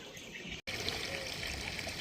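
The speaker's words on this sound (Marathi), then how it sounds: "आता घासाला पाणी सोडलेलं आहे" Irrigation water runs and trickles steadily into a grass fodder field in a continuous flow, close by, with a brief dropout near the start and no talking.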